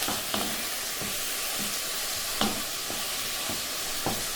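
Chicken browning in a pan on a ring at medium to high heat, a steady close sizzle and frying hiss with occasional scraping taps as the pieces are stirred.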